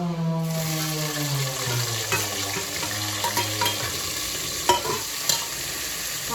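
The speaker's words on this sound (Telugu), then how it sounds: "ఇప్పుడు ఆనియన్స్ పచ్చిమిర్చి వేసుకోవాలి" Onions and green chillies added to garlic frying in oil for Telangana-style chicken, a close steady sizzle with a humming tone early on, then a spoon stirring and clinking against the pan several times.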